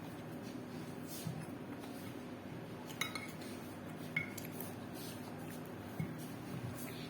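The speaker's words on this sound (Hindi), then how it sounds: "नमक, और इसको अच्छी तरीके से मिक्स कर लूंगी मैं।" A spoon stirs and scrapes homemade biryani masala with turmeric and salt in a dish, producing soft close scraping with a few sharp clinks of metal against the container.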